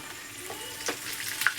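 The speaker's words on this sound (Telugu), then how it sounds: "ఆయిల్ బాగా వేడి అయిన తర్వాత ఈ గంటలోనే అటుకులు వేసుకోవాలి." Flattened rice (poha) fries in hot oil inside a wire-mesh ladle, giving a steady close sizzle and bubbling with a few sharper crackles and pops, with no talking.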